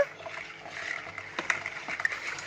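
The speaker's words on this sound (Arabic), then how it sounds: "ونقلب بالشكل ده كده اهوت عشان ندوب النشا في الميه" Starch is stirred into a cup of water to dissolve it for a homemade toilet cleaner mix, a soft, close sloshing and swirling of liquid with faint clinks of a spoon against the container.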